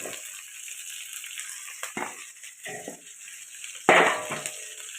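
Eggplant and drumstick pieces sautéing in oil, with a soft background sizzle broken by several short bursts of stirring and tossing in the pan, the loudest near the end.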